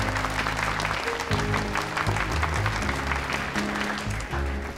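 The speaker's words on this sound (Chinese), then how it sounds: "谢谢各位这么热烈的掌声啊" Warm applause from an audience at a training-course ceremony, dense steady clapping throughout with a faint tonal hum of music or room sound underneath.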